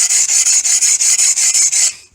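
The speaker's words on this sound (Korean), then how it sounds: "이게 날을 갈아 물을 묻혀서 가는데" The blade of two-handed pruning shears is ground on a wet whetstone with about a dozen quick, even rasping strokes in a steady back-and-forth rhythm, heard close and loud before it stops.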